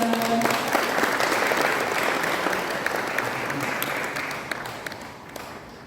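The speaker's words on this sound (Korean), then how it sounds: "박수 한번 부탁드립니다." Sustained applause from a large crowd, steady clapping throughout that gradually thins toward the end, with a few louder individual claps near the close.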